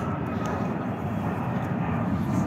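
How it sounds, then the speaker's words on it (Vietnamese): An airplane climbing overhead, a steady, broad engine roar that stays fairly loud and even throughout the short stretch with no talk over it. "máy bay bay lên kìa"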